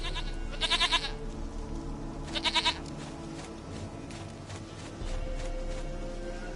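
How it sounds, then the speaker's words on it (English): A goat in the Witcher 3 video game bleats in two short, quavering bursts against a low ambient background, with no voices. "Goat of mine, dearest, sweetest goat."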